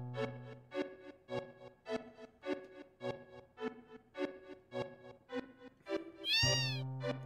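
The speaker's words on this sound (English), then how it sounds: "Okay, Meow says cat." A cat meows repeatedly in a steady, evenly spaced series of about a dozen clear, close calls, ending with a louder, higher, strained cry.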